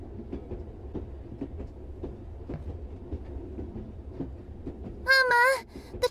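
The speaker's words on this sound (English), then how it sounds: "Mama! The train! It stopped!" Train running in the video game Re:Turn 2 - Runaway, with a low, steady rumble and faint repeated rhythmic clacks, followed near the end by a brief high tonal screech.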